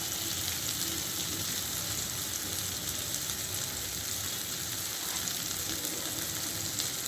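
Papaya curry frying in a pan after water is added, giving a steady, dense sizzle that holds evenly throughout without pauses.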